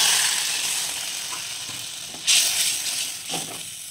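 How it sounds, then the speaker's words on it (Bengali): Water hits spiced masala frying with chopped tomato for a taro curry, first a steady hiss and then a sharp surge of sizzling and bubbling, close and loud, with a second burst shortly after. "এবার দিয়ে দিচ্ছি জল"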